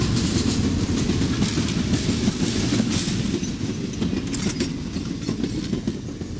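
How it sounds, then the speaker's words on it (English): Amtrak's eastbound Abe passenger train crosses the 6th Street overpass in July 1973 with a loud continuous rumble and rhythmic wheel clatter close by, no voices. "Amtrak's eastbound Abe crosses the 6th Street overpass in July 1973."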